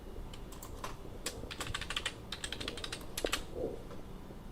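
Keys clatter on a computer keyboard as a username and password are typed, close, quick, uneven bursts of clicks with brief pauses between.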